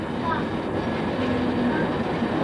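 A Walt Disney World monorail train rolls along with a steady, loud rumble and hum throughout, running continuously with no break.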